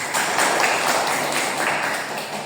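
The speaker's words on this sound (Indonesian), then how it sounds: "Beri tepuk tangan." Students in a UIN Salatiga learning session applaud with a steady patter of many hands. It is moderately loud and slowly tapers off toward the end.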